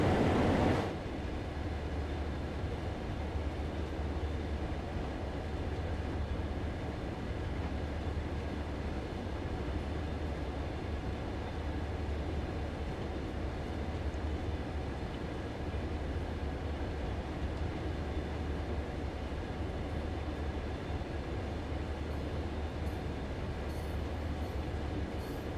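A Clinchfield Railroad F7 diesel locomotive in Train Sim World rumbles steadily throughout, a continuous low engine drone with rail noise, no voices.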